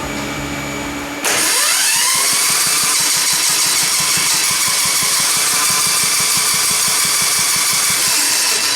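An engine jump-started with a welding machine cranks loudly, a rapid rhythmic chug with an electrical whine on top, continuing steadily for several seconds.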